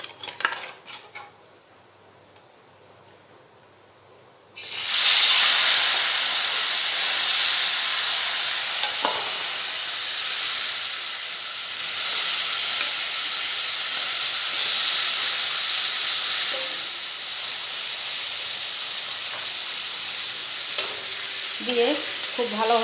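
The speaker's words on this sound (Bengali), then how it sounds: "তেলটা খুব ভালোভাবে গরম হয়ে গেছে, এবার ওতে দিয়ে দেব চিংড়ি মাছ।" Shrimp coated in salt and turmeric hit very hot oil after a few quiet seconds, setting off a loud, sustained roaring sizzle. Metal utensils clink against the pan near the end.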